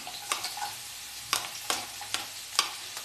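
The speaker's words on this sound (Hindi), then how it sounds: "तो सबसे पहले ये थोड़ा सा मैं प्याज को थोड़ा फ्राई कर लेती हूँ।" Onions fry in hot oil with a steady soft sizzle, broken by repeated light scraping taps of a spoon stirring the pan, close and without talk.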